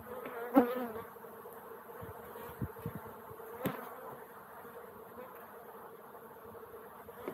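Honey bees buzzing as they are shaken off a hive frame, a steady soft drone with a few faint knocks and bumps from the beekeeping work, heard alone.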